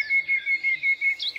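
Birds chirp in the open air on Mount Ciremai, a rapid run of thin, high, repeated tweets in a steady rhythm, close and clear over a quiet background.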